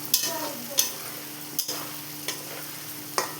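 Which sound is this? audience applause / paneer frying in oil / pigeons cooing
paneer frying in oil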